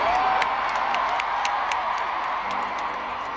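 A large stadium concert crowd at a pop show cheers and screams steadily, with scattered whoops and sharp claps popping out of a continuous roar.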